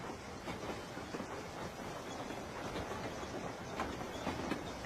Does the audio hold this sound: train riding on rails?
yes